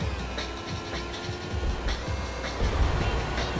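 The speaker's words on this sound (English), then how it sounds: "I love the engine noise there." A car engine in the racing game Need for Speed III: Hot Pursuit drones steadily with a buzzy, mechanical whine, rising slightly near the end and heard alone without talk.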